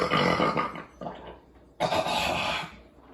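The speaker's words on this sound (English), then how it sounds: "Your typical IPA burp. Not high-pitched, very low." Two long, deep burps after drinking an IPA beer, each a low rumbling rasp lasting about a second, loud and close, separated by a short pause with no speech.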